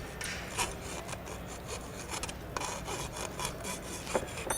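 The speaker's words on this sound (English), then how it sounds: "Deburr it a little bit." A hand file rasps along a metal edge to deburr it, producing continuous close scraping strokes with short gaps between passes and no talking.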